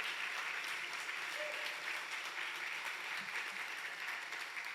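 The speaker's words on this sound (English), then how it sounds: "Let's give everybody a round of applause." A church congregation at a Sunday service applauds steadily, a dense and even patter of many hands clapping at moderate distance for several seconds.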